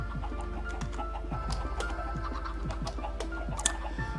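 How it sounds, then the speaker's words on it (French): Chickens on a chicken farm in a video game, a constant crowded chorus of rhythmic clucking and cooing that repeats steadily and loudly with no break. "Vous entendez les poulets, c'est horrible hein."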